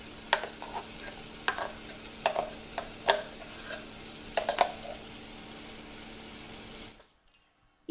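A ground paste is stirred into cooked vegetables for majjige huli: a ladle clacks and scrapes against the pot in irregular strokes over a soft simmering hiss, then everything drops to near silence.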